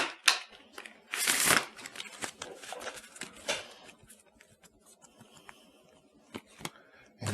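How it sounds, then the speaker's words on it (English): Someone shuffles a deck of reading cards dealer-style, giving close, soft bursts of riffling and rustling that fade into lighter clicks and taps. "we can shuffle them like cards, like a dealer would shuffle cards."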